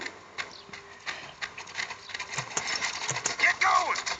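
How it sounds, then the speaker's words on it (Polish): A horse in the Western video game Six Guns clip-clops with rhythmic hoofbeats amid busy game effects and a shrill whinny near the end, while a person talks over it. "No co za głupi konie!"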